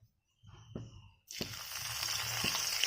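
Whole cumin seeds dropped into oil heated on a high flame, with a few soft taps at first, then a sudden bright, steady sizzle that holds and swells slightly to the end.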